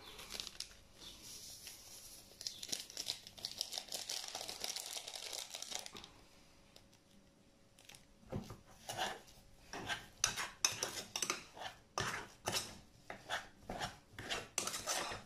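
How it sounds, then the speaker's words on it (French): A spoon scrapes and clinks against a bowl while citric acid is mixed, with gritty rubbing strokes, a quieter pause, then faster irregular scraping close to the microphone. "il faut mélanger l'acide citrique"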